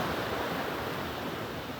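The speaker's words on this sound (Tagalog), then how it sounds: "Ang lakas ng alon, pero walang mga bata yung walang kasigan." Strong ocean waves surge and break continuously at a beach, a steady, loud wash of surf noise with no pauses and no voices.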